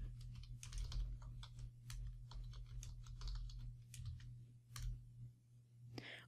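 Keys on a computer keyboard are typed in quick, light clicks in short irregular runs, heard quietly and close, with a low steady hum beneath.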